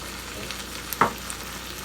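Tomato sauce fries in a pan with onions and garlic, giving a soft steady sizzle with a sharper spatter or stir around the middle.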